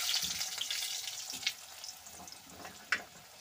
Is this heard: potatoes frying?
yes